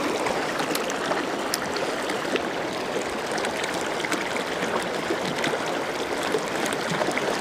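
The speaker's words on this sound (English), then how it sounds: "The water sounds different." River water flows and trickles steadily at a trout fishing spot, a soft, even babble close by with small splashes scattered through it and no talking.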